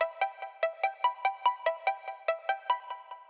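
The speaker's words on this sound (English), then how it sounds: "I also have these arpeggiators here, and they sound like this." Subtle arpeggiator synth from the Xylem plugin, part of an FL Studio remake of a song: quick evenly spaced plucked tones stepping through a repeating pattern, bright and bell-like, alone with no voices.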